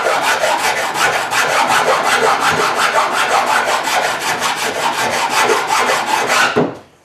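Excess epoxy being sanded down along the edges of a build, heard as brisk rhythmic back-and-forth rasping strokes, about three per second, close and loud, before the sanding stops.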